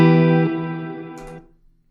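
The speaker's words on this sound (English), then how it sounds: "if I am in true bypass mode, and if I play, and I disengage, it just kills the reverb." Guitar chord through a reverb pedal in true bypass mode rings out and then stops abruptly when the pedal is switched off, with the decay cut short and a small click near the end.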